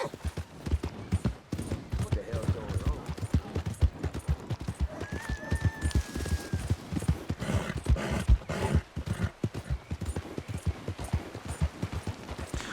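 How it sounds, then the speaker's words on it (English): Horse hooves in Red Dead Redemption 2 clip-clop in a steady, rapid rhythm throughout, close and prominent, with a brief whinny partway through. "I hear hooves."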